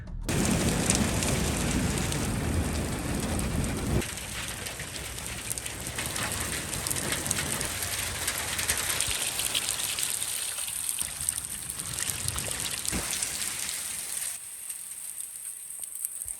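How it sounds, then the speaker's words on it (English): Rain with a little hail falls steadily outside under a green sky, a dense continuous patter on surfaces that is loud at first and eases slightly later, with no talk. "The sky is green and it's starting to show a little bit of hail."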